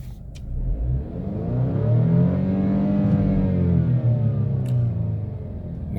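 A 2017 Alfa Romeo Giulia engine in neutral revs up toward 6,000 RPM, climbing smoothly, holding a loud, sustained high-revving roar close by, then easing slightly, with no talk over it.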